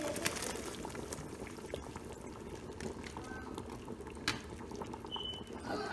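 Ground egusi melon seeds go into a pot of Nigerian egusi soup while it simmers. The pot bubbles and seethes continuously at moderate volume, with small pops and splashes.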